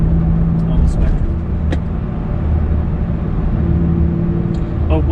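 A supercharged second-generation 2015 Toyota Tacoma with a six-speed gearbox driving on 265 tires: a steady, loud low engine drone with road rumble heard from inside the cab, with a voice talking over it.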